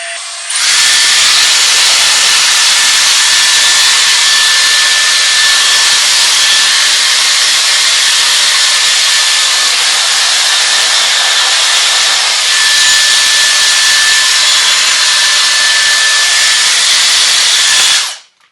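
A Dyson Airstrait hair straightener on its wet-hair mode at 110 degrees blows hot air in a loud, steady rush with a faint whine. It runs unbroken for about eighteen seconds, then cuts off.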